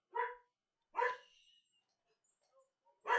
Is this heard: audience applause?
no